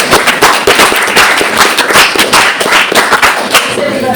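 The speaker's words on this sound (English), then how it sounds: "huge round of applause" Audience applause at the close of a lecture on sustainability decision-making, a dense, loud burst of many hands clapping that stays steady and close for the full stretch, with no voices standing out.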